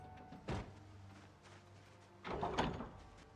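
A car door swings open and stops short against cargo, giving two dull knocks and a short scraping rattle, fairly close, with no voices.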